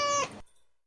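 Cat just woken from sleep giving a single short, soft meow that cuts off quickly, faint and close with no other sound.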